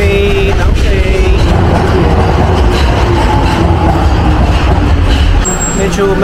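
A commuter train sits on platform 2 at a busy Tokyo station, a loud broad rumble of rail machinery and crowd noise with a brief chime near the end, as a person talks over it.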